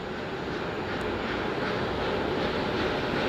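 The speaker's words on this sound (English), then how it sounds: "The 4 core stage RS-25 engines gimbaling around, testing the ability to steer the rocket into space." Artemis I Space Launch System rocket's four RS-25 core stage engines thundering in a steady, continuous broadband roar with no breaks, heard from a distance.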